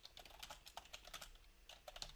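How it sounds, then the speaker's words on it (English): Quick, light keystrokes on a computer keyboard, an irregular patter of soft clicks, faint and close, with no speech. "Let me type that in."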